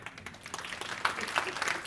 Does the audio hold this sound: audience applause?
yes